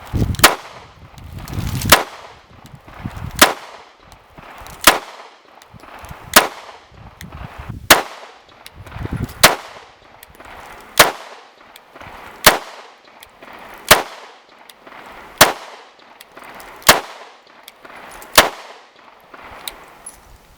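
A S&W M&P Shield X Carry Comp pistol fires about fourteen sharp, loud shots at a steady pace of roughly one every second and a half, each with a short ringing tail.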